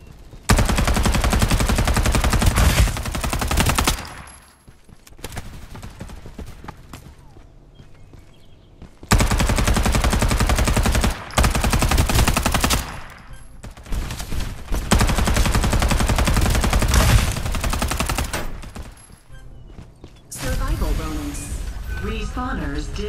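Sustained automatic gunfire and artillery bursts in the shooter video game Farlight 84, loud, dense and repeated in long stretches with short quieter gaps between volleys.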